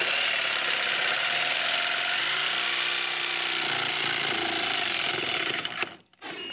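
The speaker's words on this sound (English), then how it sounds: "really start at your hole and then just jigsaw around the whole circle." A jigsaw cuts steadily around a circle, a loud continuous buzzing drone that cuts off abruptly near the end.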